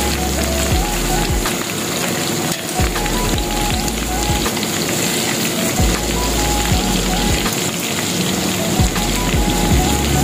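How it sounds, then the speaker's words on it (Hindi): Eggplant frying in oil in a pan over low heat gives a dense, continuous sizzle and crackle throughout, close and steady, with no talking. "हल्की आंच पे आपने इसको फ्राई करना है,"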